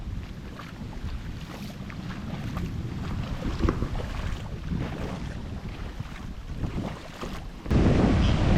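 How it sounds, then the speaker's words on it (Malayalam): Sea water from a rough swell surging across a coastal road, a continuous rushing wash of water mixed with heavy wind buffeting on the microphone, swelling louder near the end. "അത് റോട്ടിൽ കൂടെയാണ് ഈ വെള്ളം ഇങ്ങനെ ഒഴുകിക്കൊണ്ടിരിക്കുന്നത്, കടൽ വെള്ളം കണ്ടോ."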